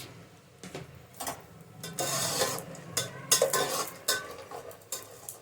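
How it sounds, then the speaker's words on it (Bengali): Cashews and raisins dropped into a frying pan for pulao and stirred, producing close, irregular scraping and rattling with a soft sizzle, loudest in the middle, no voice. "এবার আমি এর মধ্যে দেব কাজু বাদাম আর কিশমিশ"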